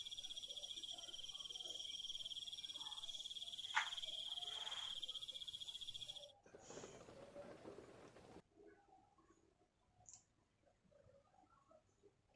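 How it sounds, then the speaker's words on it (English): Insects buzz in a dense, steady drone on a warm summer evening, with a few bird calls mixed in; the chorus cuts off partway, leaving faint scattered night sounds. "On this warm summer evening, the night birds are singing, the cicadas are humming along."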